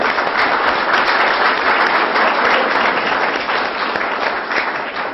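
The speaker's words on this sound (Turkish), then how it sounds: "Onlar hep beraber alkışlarla." An audience at a public assembly in Lapta breaks into loud, sustained applause, dense clapping filling the whole stretch and easing slightly toward the end.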